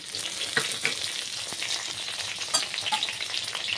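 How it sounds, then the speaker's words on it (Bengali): Chopped garlic, green chilli and tomato sizzle steadily in hot oil for a Bengali fish-head and banana-stem dish, a dense close crackle with a few sharper pops and light stirring. "রসুন কুচি দিয়ে দিলাম কটা কাঁচা লঙ্কা কুচি, দিয়ে দিলাম টমেটো কুচি।"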